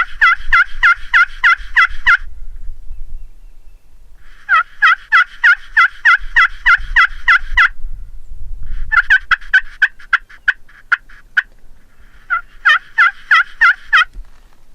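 Wild turkeys gobble close by outdoors in four loud, rapid rattling bursts separated by short pauses, with faint low rumble underneath.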